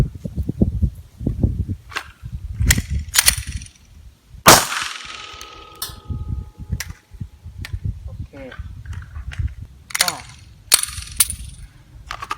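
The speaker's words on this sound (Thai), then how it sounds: "ผมจะชาร์จออกมาแล้วก็เสียบแม็กแล้วก็ขึ้นลำยิงนะครับ" A pistol has its slide racked, a magazine inserted and the slide cycled, giving sharp metallic clacks and one loud report, close and spread between stretches of someone talking.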